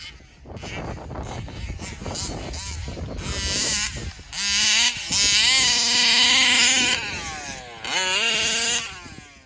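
A Taylor RC 40GT radio-controlled car with a WJ71 engine revs hard through a run of loud, rising and falling engine whines, the pitch sweeping up and down as it accelerates, with bursts that cut in and out.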